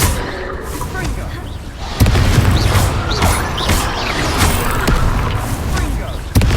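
Confringo spell blasts in the video game Hogwarts Legacy, a series of booming combat explosions and impacts in a battle, one heavy blast followed by repeated crashes and sharp cracks, with voices mixed in.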